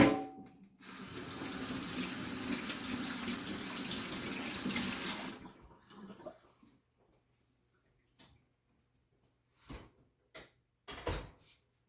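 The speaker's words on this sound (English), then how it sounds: "let me go rinse my hands off" A kitchen tap runs steadily as hands are rinsed under it for about five seconds, then shuts off, leaving quiet broken by a few brief clunks and knocks nearby.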